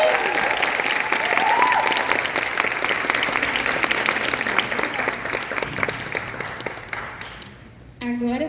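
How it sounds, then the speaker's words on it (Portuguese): Audience applause at a panel event, steady dense clapping that slowly thins and fades toward the end before a voice begins to speak. "Palmas para a Patrícia."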